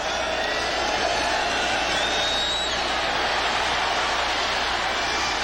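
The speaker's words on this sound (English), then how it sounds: "the crowd letting Chandler know they know who he is" Football stadium crowd at a 1992 Phoenix Cardinals at Tampa Bay Buccaneers game reacting to a player: a loud, sustained roar and cheering filling the whole stretch, broad and distant, with whoops rising from the mass.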